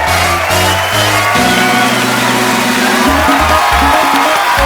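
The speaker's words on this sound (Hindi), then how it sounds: "एक बार जोरदार तालियों से स्वागत करिए" Studio audience at The Kapil Sharma Show, a comedy talk show, cheers loudly with whoops and shouts over continuous clapping. Booming music runs underneath the whole time.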